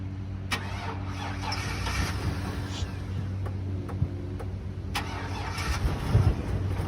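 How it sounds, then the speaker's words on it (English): A 2003 GMC Savana van's engine, after sitting for a while, starting up at an auction lot: a steady mid-low idle hum with occasional clicks and ticks, close and fairly loud throughout, no talk. "This is going to be a 2003 GMC Savannah van. Joe's going to start it up."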